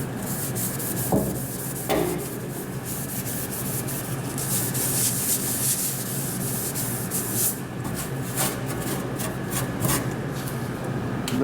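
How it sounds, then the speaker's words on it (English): A green 3M scouring pad scrubs stubborn stains in steady, rasping back-and-forth strokes, close and fairly loud, continuous for several seconds with no talking. "some of the stubborn stains can be taken with one of these green 3M pads"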